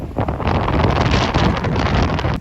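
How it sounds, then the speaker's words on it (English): Steady wind buffets the microphone, a constant rough roar with no pauses. "It's getting windy."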